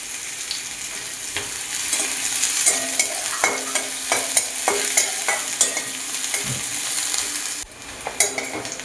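Onions frying in oil in a pan for a homemade potol chorchori, a continuous crackling sizzle broken by a spatula scraping and stirring in uneven strokes, close up with no talking.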